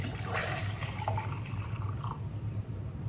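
Water splashes and trickles as it is poured from one cup into another and a little spills over during a classroom volume comparison. The sound is a soft, continuous liquid wash with no talking.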